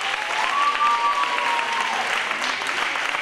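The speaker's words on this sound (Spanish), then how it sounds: "Un fuerte aplauso para ellos" An audience at a sports gala applauds a women's running group, with steady, dense clapping throughout and a faint crowd murmur underneath.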